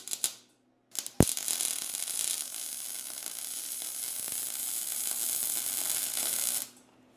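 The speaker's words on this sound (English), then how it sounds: "I gotta weld that up." A bracket being MIG-style wire welded onto a go kart frame, a steady crackling buzz lasting several seconds after a couple of short starts, close and loud, ending abruptly.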